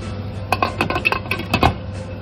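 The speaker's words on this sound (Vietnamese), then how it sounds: "mình đậy nắp lại nha" A metal lid set onto a pot of mung beans for steaming, giving a quick series of close clinks and rattles over a steady low hum, with no talking.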